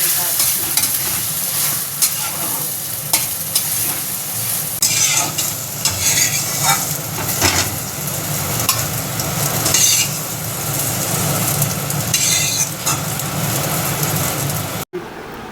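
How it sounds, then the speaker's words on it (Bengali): Beaten eggs with salt fry in hot oil in a wok, giving a steady, close, loud sizzle with frequent scraping stir strokes throughout, and no talking. "এবার দুটো ডিম ফেটিয়ে তাতে একটু নুন দিয়ে ভালো করে ভেজে তুলে নিলাম।"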